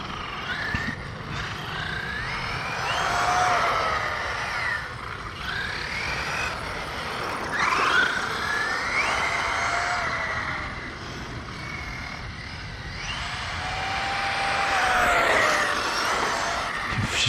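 A Team Magic E6HX RC car on SRC off-road tyres drives around a parking lot, its electric motor whining in rising and falling sweeps as it passes and turns, with tyre noise on pavement and no talk.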